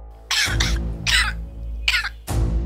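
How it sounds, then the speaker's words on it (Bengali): A person coughs in a drama scene, four sharp, loud bursts close by with short pauses between them, a couple coming in quick pairs. "তুমি কাশতেছো কেন?"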